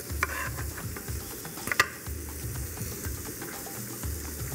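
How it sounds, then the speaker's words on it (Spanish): Ground-meat meatball mixture with tomato and onion is squeezed and mashed by hand: soft, wet squelching pulses repeat under a steady background sizzle, close and fairly quiet, with no talking. "Esto es majar en términos populares, ¿verdad? estrujar con las manos."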